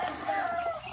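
Pet fowl, ducks or chickens, squabble over scattered food, their clucking and squawking calls crowding together in a short, busy burst close by.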